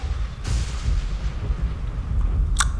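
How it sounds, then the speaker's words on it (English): Deep, rumbling booms roll continuously in the background like distant explosions outside in the horror video game Among the Sleep, with a brief sharper crack near the end. "Why are there explosions going on outside?"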